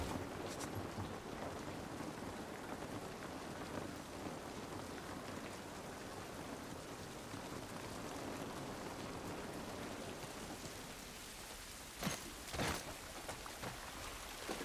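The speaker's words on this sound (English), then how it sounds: "This rain ain't gonna do us any good." Continuous steady rainfall in The Last of Us Part 1 with a hiss of drops on surfaces, broken by a couple of sharp thuds near the end.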